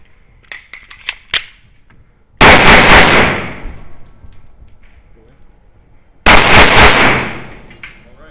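Loud gunfire bursts from a live-fire shoot house stage at a night-vision biathlon run-and-gun match, two sharp volleys separated by a few seconds, with a few lighter pops and faint voices before them.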